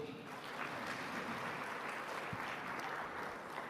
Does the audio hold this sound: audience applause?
yes